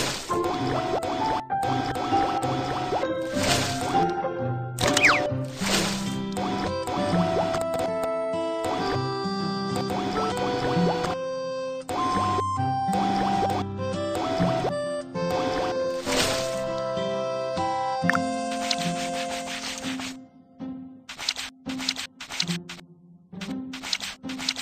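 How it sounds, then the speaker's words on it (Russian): Ice melts in a refrigerator in a Baby Bus kids' cleaning game as a run of bright dripping and trickling liquid sounds set against cheerful tonal game music, with playful plinks that thin into sparse drips near the end. "Растопи лед в холодильнике."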